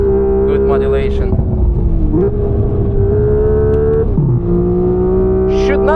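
A Hyundai Ioniq 6 N electric car is driven hard on the Nürburgring Nordschleife. Its loud synthetic engine tone drops sharply in stepped pitch changes, like simulated gear downshifts, over a low road rumble.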